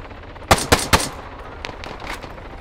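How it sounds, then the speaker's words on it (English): Three loud close gunshots ring out in quick succession in ArmA 3, followed by fainter distant shots. "I think I just shot at the helipilot."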